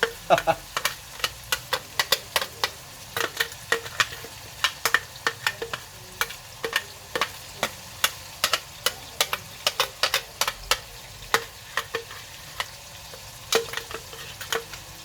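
Onions fry in a pan for chicken curry, a steady sizzle under a rapid run of sharp clicks and taps as a utensil stirs and scrapes the pan, close and continuous with no talk.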